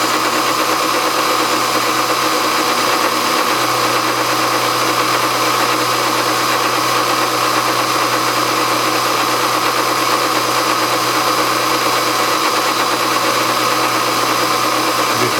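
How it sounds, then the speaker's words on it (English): A drill bores holes in Kerzel governor weight arms, giving a loud, steady, unbroken motor whine and grinding drone throughout with no speech. "I'm actually drilling them holes."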